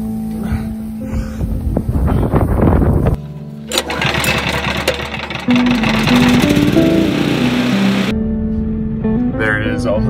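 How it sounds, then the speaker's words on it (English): A portable generator runs to charge a converted school bus's batteries outdoors, with a steady engine drone and wind buffeting the microphone, and the engine pitch wavers midway through. "So I'm trying to bring this generator up there, bring it all the way up this stupid hill to the bus."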